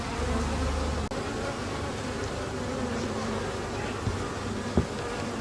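Honey bees buzz around an open hive in a dense, continuous drone of many wings, close and steady, with a few soft knocks of hive frames being handled.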